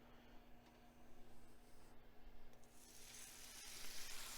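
Buttered bread laid butter side down on a hot skillet for a grilled ham and cheese, producing a quiet, steady sizzle that swells into a louder, hissing fry, with no talking.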